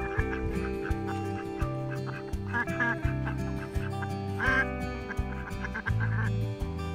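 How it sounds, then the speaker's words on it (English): A duck quacks near a garden water fountain, its nasal calls coming in short irregular bursts over a steady background hum and repeating through the whole stretch. "Bunch of nonsense from a duck."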